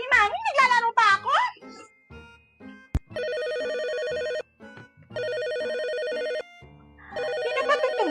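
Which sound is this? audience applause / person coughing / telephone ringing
telephone ringing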